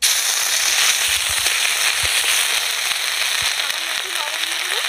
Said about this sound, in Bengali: আদা বাটা দিয়ে দেবো